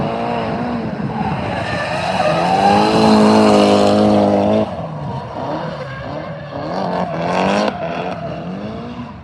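A drift car (car 18) runs during Autumn Drift Matsuri practice and qualifying at Ebisu Circuit in Japan. Its engine roars and climbs under a long, loud tire squeal, then drops as revs change and the squealing continues.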